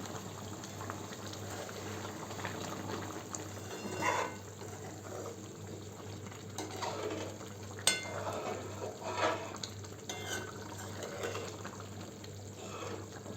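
Chicken curry simmering in a pan, a steady close bubbling and sizzling with occasional soft stirring clinks and small pops, continuous and without voices.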